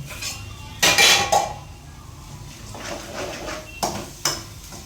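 Green chillies stirred in a metal pan while preparing fish curry, the spoon clanking against the pan in several sharp bursts, grouped near the start and again near the end, with soft background scraping between them.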